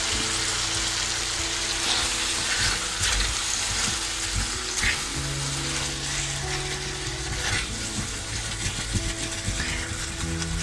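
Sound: curry chicken strips sizzling in a frying pan while stirred

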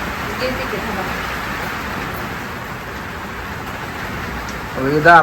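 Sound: rain falling outside

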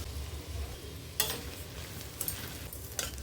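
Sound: frying and stirring broken rice rava in a pan

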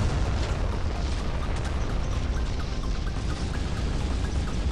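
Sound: explosions in Modern Warships video game

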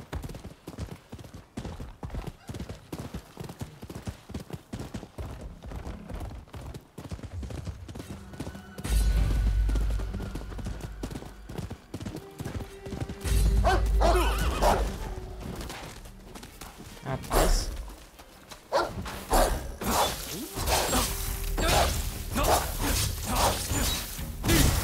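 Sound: horse galloping and neighing in the video game Rise of the Ronin

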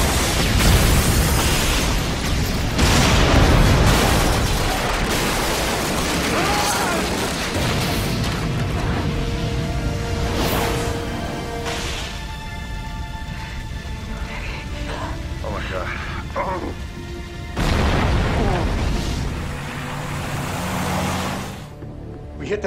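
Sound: missile explosion hitting a building, TV sound effect

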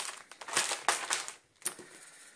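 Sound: plastic zipper bag crinkling

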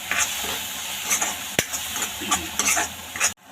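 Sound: frying and stirring masala spices in oil

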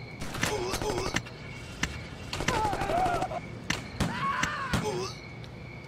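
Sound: gunfire from shooting gangsters in the video game Gangsters 2

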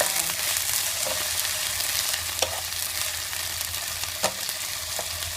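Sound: stir-frying taro, carrot and shiitake mushrooms

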